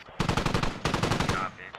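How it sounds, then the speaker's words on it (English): Automatic gunfire in the military shooter game Squad: two rapid bursts of loud, close rattling shots, each about half a second long. "Shots coming in towards the MTLB."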